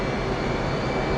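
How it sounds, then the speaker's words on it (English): Jet fighter engines in a flight simulator game roar steadily at full military power while the aircraft is held on its brakes, a loud, continuous broadband rush throughout. "Activate the brakes to hold the aircraft in position while advancing the throttle to full mill power."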